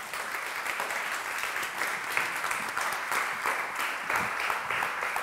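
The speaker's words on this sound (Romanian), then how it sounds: "Vă frumos să-l aplaudăm și să-l prim pe Iulian Stanciu." An audience welcomes guest Iulian Stanciu with steady, close applause, a thick and continuous patter of many hands that holds at an even level throughout.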